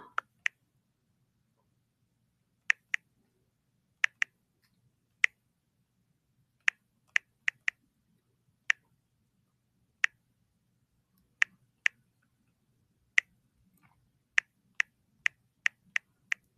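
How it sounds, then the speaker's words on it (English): Slow typing on a keyboard: sparse, sharp key clicks, some single and some in quick pairs, close and distinct against near silence, with no speech. "Going kind of slow typing"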